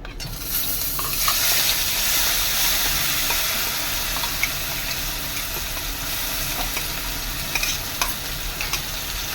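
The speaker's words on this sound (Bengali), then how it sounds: "মশলাটা ভাজা করে নেবো ভালো করে" Ground spice paste with bay leaves frying in oil, a loud, hissing sizzle with rhythmic scraping and stirring strokes of a spoon against the pan, and no talking.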